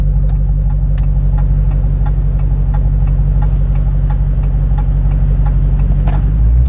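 A deep, loud Dodge Challenger Hellcat Jailbreak engine, 717 hp, idles steadily with a heavy low rumble and a faint regular ticking on top, the tone shifting slightly at the end.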